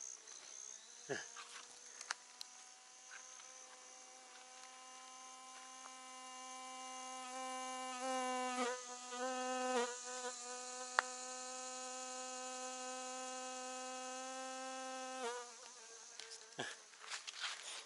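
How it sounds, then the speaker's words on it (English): A fly known as the good news bee buzzes near a mountain trail, a steady close drone that shifts pitch as it hovers and moves, with a few soft knocks and no speech. "It's some type of fly. I can't remember right off what type of fly it is, but they call it the good news bee"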